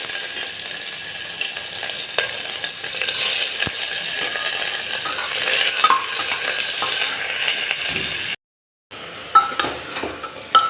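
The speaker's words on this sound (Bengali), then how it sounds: "দিয়ে দিচ্ছি জিরা ফোড়ন, একটা শুকনো লঙ্কা, দিয়ে দিচ্ছি পেঁয়াজ কুচি" Cumin seeds, one dried red chili and chopped onion hitting hot oil, a loud steady crackling sizzle with scattered metallic clinks and stirring scrapes, briefly dropping out before resuming.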